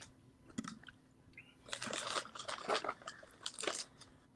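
Dried mango being munched close to the mic, a quiet run of crunchy bites and wet chewing that builds after a brief pause, with no talking.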